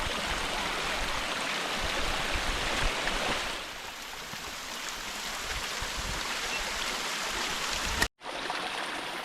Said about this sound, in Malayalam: അവിടെ നിന്ന് ഇങ്ങനെ വെള്ളം ഒലിക്കുന്നുണ്ട്